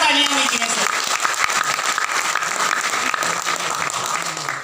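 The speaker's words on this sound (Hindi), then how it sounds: "एक बार जोरदार तालियां होनी चाहिए सर" Loud, dense audience applause for a motivational speaker, continuous clapping from start to finish with a brief voice trailing off at the very beginning.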